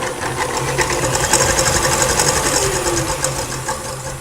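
An electric mixer whips frothy egg whites with cream of tartar on high speed, producing a steady, close, buzzing whir that holds an even pitch throughout.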